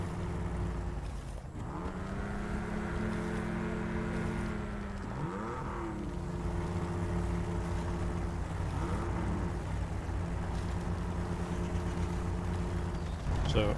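Engine of the All American AA 55 truck in the video game SnowRunner: a steady, droning low motor hum with rising and falling pitch sweeps as it revs and shifts, continuous throughout without talk.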